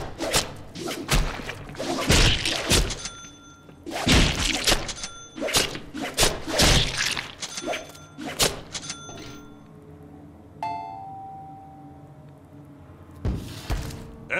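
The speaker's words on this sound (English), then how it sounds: "mix our light and heavy attacks together and see what happens" A rapid string of Deadpool's light and heavy melee attacks in combat, loud close thuds and whip-like swipes in uneven bursts, with a short electronic whir in a lull before a final hit.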